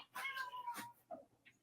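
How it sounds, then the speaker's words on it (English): A cat trapped in a closet meows in a drawn-out, complaining wail, followed by a couple of shorter muffled cries, heard at a moderate distance in a quiet room. "The cat caught in my closet."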